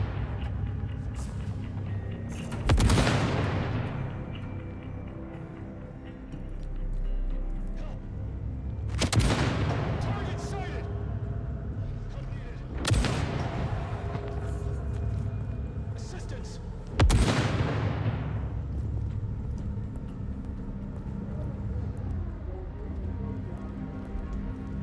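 Sniper rifle shots ring out in a video game, four sharp loud cracks spaced a few seconds apart over a steady background of game ambience.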